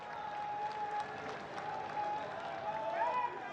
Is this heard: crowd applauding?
yes